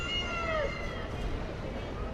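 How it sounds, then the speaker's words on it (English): A cat gives a short, falling meow early on, fairly faint against a steady, noisy background that runs throughout. "we've got a lovely cat here who will unify us"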